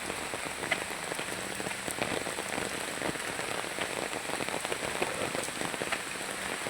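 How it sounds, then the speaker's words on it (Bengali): Heavy rain pours down steadily, a dense, continuous wash of drops pattering on surfaces close by, with no voices over it. "কি অবস্থা দেখছেন, প্রচুর বৃষ্টি হচ্ছে"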